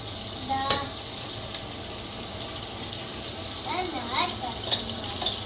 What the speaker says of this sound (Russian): Годіться котлети жарить, так?